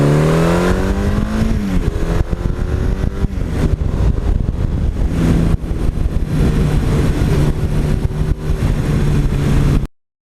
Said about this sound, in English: that engine, whether you short shift it, go right to red line, no matter what you do, that engine slides you back in the seat